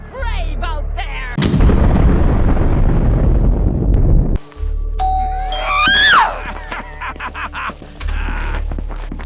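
A doorbell chimes in the video game Schoolboy Runaway with bright ringing tones in the middle, surrounded by loud booming rumbles and abrupt noisy bursts that cut in and out.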